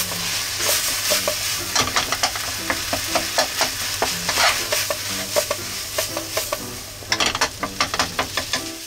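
Rice stirred in a pan with melted butter and soy sauce for garlic steak rice: rhythmic spatula scrapes and taps repeat over a continuous light sizzle, close and clear, with no talking.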